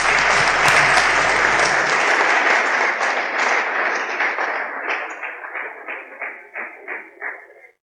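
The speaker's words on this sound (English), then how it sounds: "Shall we clap for them, please?" Audience applause for a school cadet corps at a 60th anniversary launch event, a full crowd clapping loudly that thins out and fades to scattered claps over several seconds.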